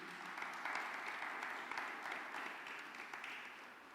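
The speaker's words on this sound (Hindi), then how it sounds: "जोरदार तालियां" Warm applause rises from a Friday prayer meeting congregation, a steady, fairly soft clatter of many hands that swells slightly near the start and continues evenly with no talking over it.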